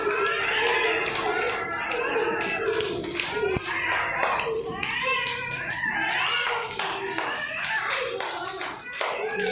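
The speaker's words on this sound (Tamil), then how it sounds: "எல்லாரும் கை கைத்தட்டு" Children clap their hands together during a village indoor kids' game, a steady run of sharp claps lasting throughout, with voices and chatter mixed underneath.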